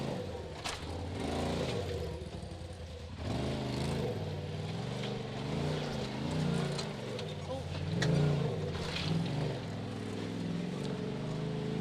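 An off-road vehicle in two-wheel drive backs up in reverse, its engine droning and revving in repeated surges under steady rumble, with people talking over it.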